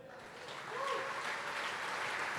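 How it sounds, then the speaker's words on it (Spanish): A church congregation claps during a sermon, applause swelling within the first second and then holding steady and fairly loud, with a voice briefly audible at the start. "Un aplauso, por favor."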